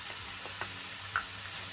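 Garlic and ginger frying in a pan for noodles, a soft continuous sizzle with a couple of small ticks of the spoon against the pan.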